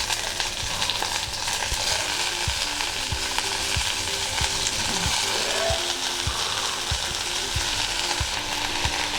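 Coriander leaves and onion sauté in a pan for a Chettinad-style coriander chutney, giving a steady, close sizzle with frequent clinking stirs of a utensil throughout.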